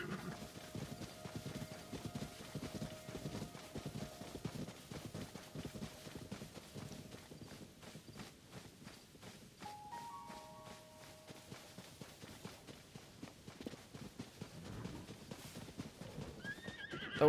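A horse in the video game Zelda Tears of the Kingdom gives a whinny and then trots off, with rhythmic hoof clops fading over several seconds against quiet game ambience.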